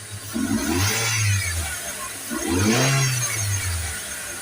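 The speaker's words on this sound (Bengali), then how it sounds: "আমি যদি অ্যাক্সিলেটারে পাড়া দিয়ে সাউন্ড কোয়ালিটি আরও একটু ভালোভাবে শোনানোর চেষ্টা করি" A Toyota Hiace van's engine revs twice as the accelerator is pressed, each rise swelling and falling back toward idle, loud and close with no talking.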